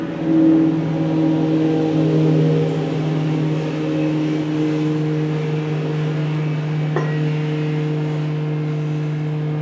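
Second-generation Cummins diesel trucks rev past, a steady, droning engine note that swells slightly, then holds at moderate loudness for several seconds, with no talking.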